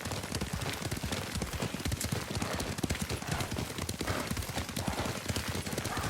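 Galloping horse hoofbeats pound in a steady fast rhythm, close and loud, while riding in the video game Ghost of Tsushima, with no talk over them.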